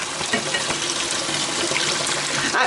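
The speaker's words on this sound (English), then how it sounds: "Now I'm going to rinse them." Soaked black-eyed peas rinsed under a running kitchen tap, with a steady, close gush of water pouring continuously throughout and no talking.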